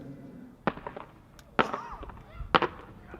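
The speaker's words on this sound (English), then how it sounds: "A mine, a mine when ignited, simply propels the contents such as stars, glitter, or other small effects in a cone shape" At an outdoor fireworks display, mine shells send out stars and glitter, giving three sharp launch bursts spaced about a second apart, each trailed by brief crackling and a quiet fizz.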